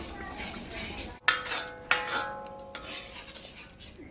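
An ABC malt mixture is stirred in oil in a covered pan. A spoon scrapes the pan steadily and knocks sharply against it a few times, close up, with a voice speaking in the background.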